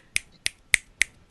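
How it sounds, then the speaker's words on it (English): Five crisp finger snaps, close and dry, evenly spaced about a third of a second apart with silence between them. "Throw me a snap."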